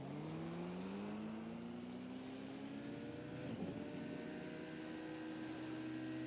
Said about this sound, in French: En vrai quand t'as une bagnole ça va assez vite.